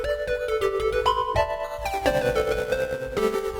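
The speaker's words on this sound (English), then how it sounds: "I also went ahead and picked out more of a pluck sort of sound." A pluck synth patch from the Electra X plugin plays a busy melodic run of short bright notes with ringing harmonics, steady and close, with no voices over it.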